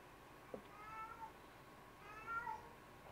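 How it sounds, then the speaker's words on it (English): A house cat meows twice indoors, two drawn-out, wavering cries about a second apart over a quiet room hum. "You brought your cat over here too."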